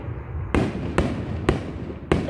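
Fireworks exploding outdoors: four sharp, loud bangs at roughly half-second to second intervals, each with a brief crackling tail, over a steady background rumble.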